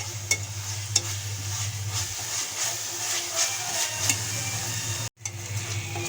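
Chicken kosha spice paste frying in oil, a continuous bright sizzle and hiss with scraping stirs and clinks of a spoon against the pan, brief silence near the end.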